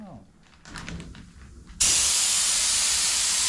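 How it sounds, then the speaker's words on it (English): A clogged paint spray gun abruptly starts blowing air, a loud steady hiss that continues after a short stretch of quieter handling noise. "I keep spraying it for a few more minutes to try to see if I can unclog it by using it and running the air through it some more"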